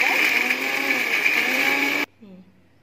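A mixer grinder whirs loudly and steadily, grinding soaked watermelon and muskmelon seeds together with coconut, then cuts out abruptly near the end, leaving a quieter room.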